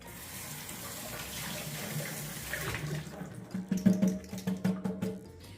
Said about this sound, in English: let's give these a little rinse